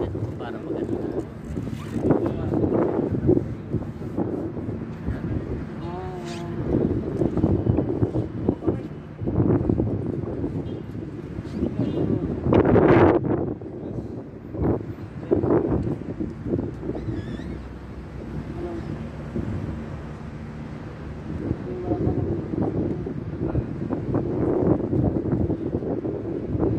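Strong wind buffets the microphone outdoors at a bus stop, gusting in uneven bursts of low rumbling noise that swell and fade over nearly half a minute.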